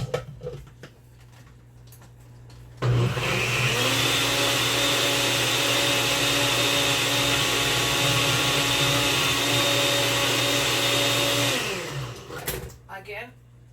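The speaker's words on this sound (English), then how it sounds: "I'm gonna puree that before I add my avocado" A blender purees salsa verde in a home kitchen, a loud steady whir that runs continuously for about nine seconds, starts abruptly and then winds down, with quieter kitchen sounds before and after.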